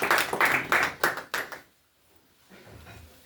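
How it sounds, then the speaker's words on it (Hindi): A small congregation claps in praise of Jesus at a night prayer gathering, a few loud, uneven hand claps in quick succession that stop abruptly, leaving near silence with faint room murmur. "हम यीशु के लिए ताली मारेंगे।"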